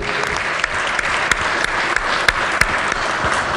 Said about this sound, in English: everybody give them a nice round of applause